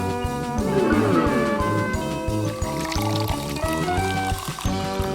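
Water pours steadily into a glass, a splashing gurgle heard over a cheerful background tune.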